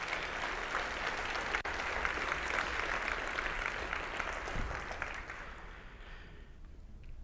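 A breakfast audience at a school district event applauds in a dense, sustained round of clapping that gradually thins and fades toward the end.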